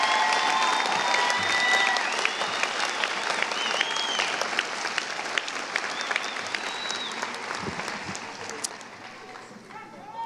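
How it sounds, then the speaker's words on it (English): Sustained crowd applause for 2002 graduates at a high school graduation ceremony, a dense wash of clapping that gradually thins and fades, with scattered cheers over it. "Another round of applause for these awesome people, 2002 graduates."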